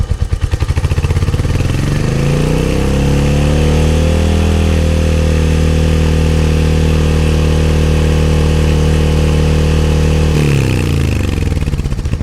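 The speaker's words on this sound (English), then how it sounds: "those pops on the exhaust are considerably louder than the normal exhaust state" A Royal Enfield Hunter 350 motorcycle with a Coffman's shorty slip-on exhaust is held at steady mid revs for a long stretch, its exhaust loud and throbbing, with rough popping in the note.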